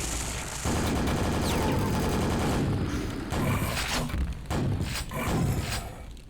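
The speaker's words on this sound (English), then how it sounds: "Let's zap the Shambler." Thunderbolt lightning weapon in the video game Quake blasting a Shambler, a dense continuous crackling discharge with heavy thuds layered over game noise, loud and sustained for several seconds.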